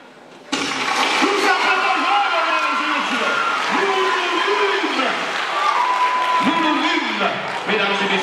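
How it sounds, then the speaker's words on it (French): An audience applauds the players at a debate competition final, sustained clapping starting abruptly and carrying on for several seconds, loud and dense, with a voice speaking over the applause. "On les applaudit, mesdames et messieurs, merci."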